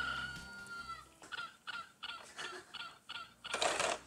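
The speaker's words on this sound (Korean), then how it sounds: "어머, 닭 소리만 이렇게 나냐?" A toy phone's electronic chicken sounds cluck in a quick repeated series, fairly faint and close, ending with a louder burst.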